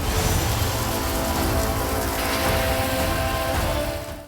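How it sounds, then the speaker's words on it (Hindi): Steady rain mixed with snowfall in Lahaul-Spiti, Himachal Pradesh, a dense, loud, unbroken hiss of precipitation that holds constant throughout before fading slightly at the very end. "यहाँ रुक रुक कर बर्फबारी और बारिश हो रही है।"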